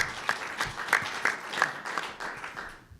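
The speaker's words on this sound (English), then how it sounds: "let's give them another round of applause for what they do for this community" A round of applause from an audience at a press conference, a dense burst of clapping that holds steady for a few seconds, then tapers off.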